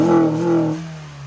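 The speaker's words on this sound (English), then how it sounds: "what we noticed is obviously awesome sounding induction noises" An 8th-generation Honda Civic with the R18 engine and an added cold air intake gives a steady droning induction hum that drops in pitch partway through, close and alone.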